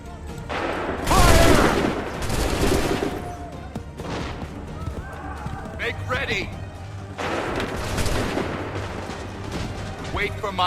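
Musket volleys crack out from massed soldiers on a battlefield in Assassin's Creed III, rolling bursts of gunfire that swell loud and ragged, with shouted commands heard between the volleys.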